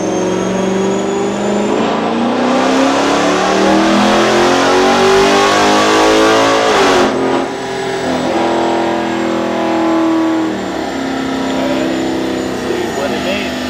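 A Dodge Scat Pack with a Stage 2 cam roars loud and close through a pull, its engine pitch rising steadily under load before cutting off abruptly into a rough, lumpy idle that fades lower.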